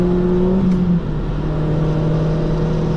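A car engine droning steadily on its first lap of a race track, a close sustained tone that drops in pitch as the driver shifts gear, with no voices.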